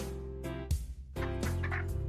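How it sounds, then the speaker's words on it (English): A third randomized chicken sound effect in a Godot game, a short burst of fowl clucking and gobbling calls over ongoing background music. "And then a third chicken sound from the randomizer."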